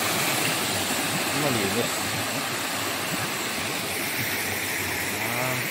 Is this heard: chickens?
no